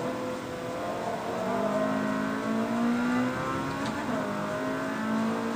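A Honda Civic Mugen race car accelerates around the Catalunya circuit, its engine revving and rising in pitch through the gears, loud and continuous with no talk.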